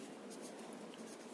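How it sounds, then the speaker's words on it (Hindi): Pen or marker writing by hand on a board or page during a complex-number math lesson, a steady close scratching texture running through the whole short stretch with no talk. "तो इस चीज को यहाँ पे मैं लिख देती हूँ"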